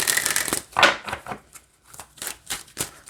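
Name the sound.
shuffling oracle cards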